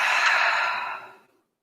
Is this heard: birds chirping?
no